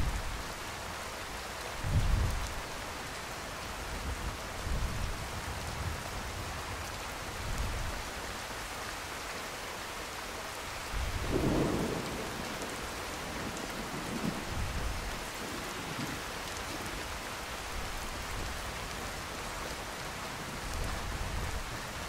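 A heavy thunderstorm in Skyrim brings steady rain hiss and several low thunder rumbles rolling in at intervals, with no talk.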